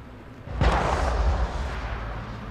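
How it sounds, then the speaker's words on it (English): A single sharp gunshot in the Mass Effect video game, a sudden loud crack followed by a low rumbling tail that lingers over a steady game ambience. "A gunshot?"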